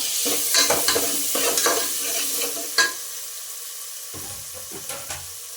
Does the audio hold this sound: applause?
no